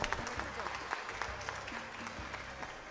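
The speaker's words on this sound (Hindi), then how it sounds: "एक बार भरपूर तालियां हो जाएं।" Studio audience applauding at an Independence Day special TV show, a steady wash of clapping for a few seconds, moderately loud and even throughout, with no one speaking.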